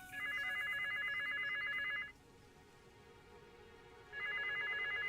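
Two electronic ring bursts from a telephone in the ranch-building video game The Ranchers, each about two seconds of rapid trilling tone separated by a quiet gap, clear and moderately close.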